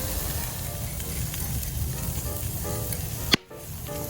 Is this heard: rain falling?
no